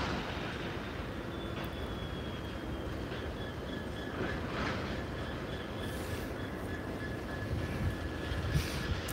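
A train rolls through the Great Northern Terrace level crossing at Sincil Bank, taking the crossovers with a continuous rumble, light wheel squeal and faint clatter that swell slightly near the end, with no voices.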